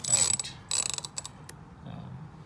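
A ratchet with a 5/8 spark plug socket loosens spark plugs on a Ford Territory or Falcon with the Barra engine, giving close, crisp bursts of quick clicking in two short runs, then a few scattered clicks.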